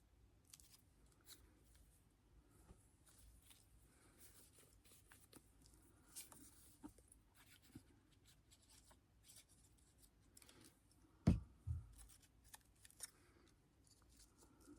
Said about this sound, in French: Mais je vais couper ici cette partie-là.